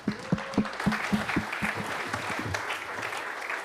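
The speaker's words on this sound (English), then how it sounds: "Round of applause" An audience at a tech demo night claps, starting with a few sharp, distinct claps that quickly blend into a brief patter of applause, moderately distant and modest in size.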